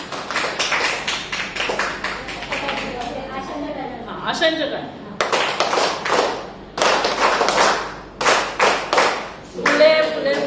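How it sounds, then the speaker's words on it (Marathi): An audience claps in bursts of applause at a Brahma Kumaris health event on cervical cancer screening, the clapping rising and falling in loud waves while someone speaks over it. "जोरदार टाळ्या वाजवा स्वतःसाठी."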